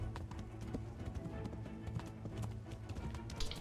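Horse hooves gallop in Kingdom Come: Deliverance, a rapid, steady clip-clop of hoofbeats on the ground, fairly close and continuous with faint background game sound.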